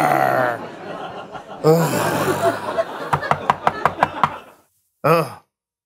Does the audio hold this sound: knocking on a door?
yes